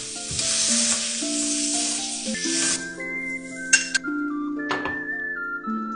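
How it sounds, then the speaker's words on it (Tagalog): Green and red chilies with a pinch of salt sauté in hot oil. A bright sizzling hiss fills the opening seconds, then fades to occasional stirring clinks beneath prominent background music. "Gisa lang natin konti yung sili."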